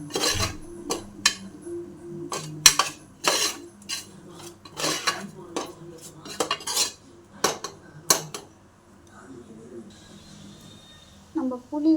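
A utensil clanks and scrapes against a metal cooking pot as spices are stirred together, sharp irregular knocks close up and fairly loud, settling into quiet near the end.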